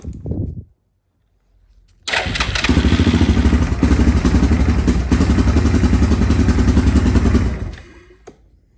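A Yamaha Grizzly 660 ATV engine, running rough after repairs, makes a short sound that cuts out. After a pause it catches and holds a loud, steady, close idle for about five seconds, then dies away.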